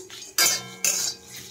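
Dry spices for a vegetarian cauliflower roast are stirred in a dry pan, with two sharp bursts of a utensil scraping and clinking against the metal and a quieter scrape between them.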